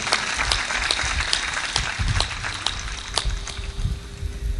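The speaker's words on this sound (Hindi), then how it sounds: "ताली बजा के इनका सम्मान करो।" An audience at a spiritual discourse claps to honour a woman, a sustained round of applause with some distinct individual claps standing out above the steady crowd noise.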